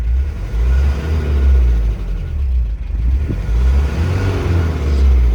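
A 1985 Toyota turbo diesel 4x4 pickup with a 2LT engine and five-speed, revving steadily under light throttle; a loud, continuous low rumble with gentle rises and falls in pitch and no talking.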